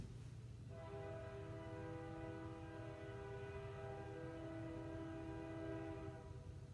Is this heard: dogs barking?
no